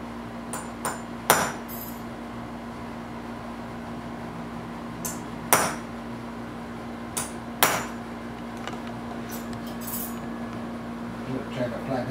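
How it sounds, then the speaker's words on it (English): A plastic mallet strikes handmade metal stamps into a jewelry bracelet, giving sharp single taps and a few quick double hits spaced several seconds apart, close and clear over a low steady hum. "Is that a rawhide mallet or plastic? Plastic."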